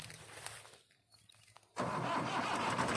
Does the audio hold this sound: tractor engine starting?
yes